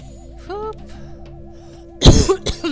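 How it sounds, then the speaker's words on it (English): A sharp, loud cough bursts out twice in quick succession after a quiet stretch with a faint wavering electronic tone. "Sorry to cough."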